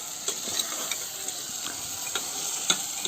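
Crab curry is stirred in a pot over a tribal-style fire, with a soft steady sizzle broken by irregular scraping clicks of the spoon against the pot.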